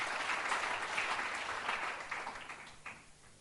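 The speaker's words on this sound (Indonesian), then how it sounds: "Tepuk tangan lagi bagi Tuhan Yesus." Applause from a church congregation during a fasting prayer service, a steady, full wash of many hands clapping that fades gradually toward the end, with no voices over it.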